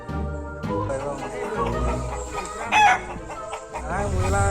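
Chickens cluck loudly and excitedly at close range, with a rooster's crow rising briefly in the middle of the busy, continuous farmyard squawking.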